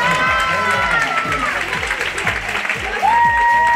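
Audience at a pageant show applauds steadily, a continuous wash of clapping with some cheering, while a host speaks over it through an amplified microphone.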